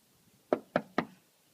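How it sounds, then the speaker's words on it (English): Three sharp knocks on a door in a staged Macbeth scene, evenly spaced and close, each a crisp thud with a short decay, over a quiet background with no talking. "Knock, knock, knock."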